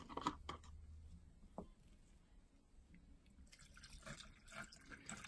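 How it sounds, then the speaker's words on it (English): Cold brew coffee, made in pouches, is poured from a bottle over ice, giving quiet liquid trickles, drips and small clinks that come in short bursts and then pick up again toward the end. "and pour it over ice."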